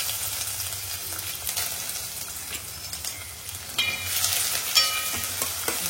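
Hot oil sizzles steadily while tempering a Malvani chicken curry, a continuous close crackle with occasional sharper pops and stirring scrapes, no talking.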